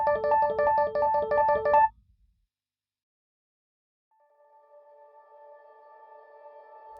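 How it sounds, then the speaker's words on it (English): Quick Rhodes electric piano arpeggio of rapid repeated notes, cut off abruptly, then after a silent gap a sustained shimmer reverb tail swells in as a soft, high, ringing wash. "I like to do like an arpeggio thing, quick arpeggio thing with a Rhodes, and then turn it on and it creates a shimmer."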